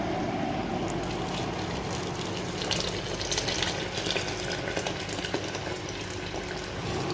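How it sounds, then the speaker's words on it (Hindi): Hot water poured into a pot of beef nihari, a steady, fairly loud splashing pour that runs without a break under faint kitchen background. "अभी इसमें हम लोग पानी डालेंगे।"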